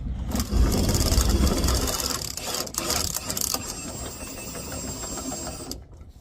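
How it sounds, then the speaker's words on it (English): A spare tire winch under a Ram ProMaster van cranked down with the factory tools: a continuous rattling, clicking mechanical whir, loud at first then easing, close by, ending abruptly. "take your factory tools and crank it down"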